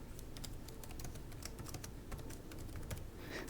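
Rapid clicking keystrokes on a computer keyboard, close and continuous, with irregular clusters of taps and no talking.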